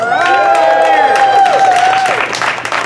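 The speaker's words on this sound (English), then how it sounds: "Big round of applause." Crowd at an outdoor farmworker community rally against pesticides applauds steadily, with a long sustained whoop or whistle riding over the clapping for about two seconds before tapering off.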